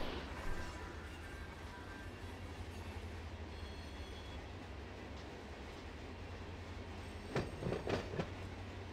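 Freight trains roll through a hump yard in the Run8 V2 train simulator, a steady low rumble of railcars throughout, with sharp wheel squeals and metallic clanks bursting out near the end.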